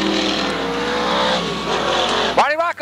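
SK Modified race cars roar loudly on the Waterford Speedbowl track in a sustained, dense engine drone with tire noise, cutting off sharply near the end as a commentator's voice talks over the racing.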